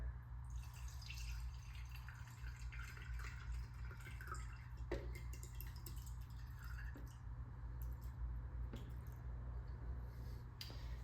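Lion's mane tincture is poured slowly through a filter, making faint trickles, drips and small wet squishes over a steady low hum, with no voices.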